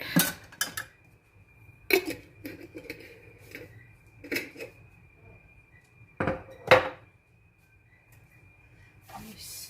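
Spoon stirring strawberry Jello lemon cheesecake mixture in a bowl, with scattered clinks and scrapes against the bowl in short irregular bursts, fairly quiet with pauses between strokes.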